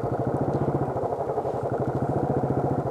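A motorcycle rides past a toll booth on a road trip near Kasauli, its engine putting out a steady, rapid mid-pitched thrum with a pulsing rhythm, close and continuous throughout.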